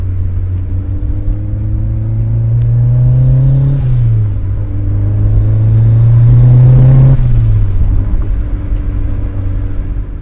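A turbocharged Mazda Miata running 9 psi of boost accelerates hard from a standstill, its loud engine drone climbing in pitch through two gear shifts with a brief dip at each change.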